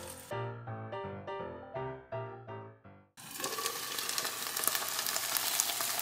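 A few soft musical notes play, then a loud, steady sizzle of chicken breast steaming over medium-low heat in a covered frying pan takes over and continues to the end.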